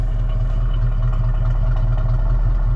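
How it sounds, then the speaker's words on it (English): A 1967 Ford Mustang GT exhaust idles close by, a steady low rumble with light clatter that stays fairly quiet throughout. "Here, listen to the exhaust."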